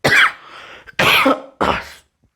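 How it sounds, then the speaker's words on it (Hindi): Three harsh coughs in quick succession, loud and close, each burst short and raspy with brief pauses between them. "बार बार थोड़ा सा खांसी आ रहा है, ठीक है, गले में खराश"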